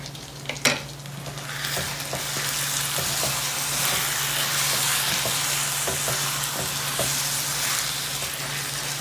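Tomato sauce poured into hot rice in a well-seasoned cast iron pan, setting off a steady loud sizzle and bubbling, with a few sharp clinks early on and the frying continuing throughout.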